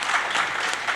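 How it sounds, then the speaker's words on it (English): Steady audience applause for the panelists at a cannabis policy summit, a dense, even wash of many hands clapping that holds at full strength without pause. "let's give them another round of applause."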